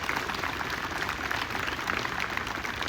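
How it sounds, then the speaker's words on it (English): Audience applause for firefighters, police, EMS and city workers at a Memorial Day ceremony, a steady, dense wash of clapping that holds evenly for the full stretch without pause. "Give them a big round of applause"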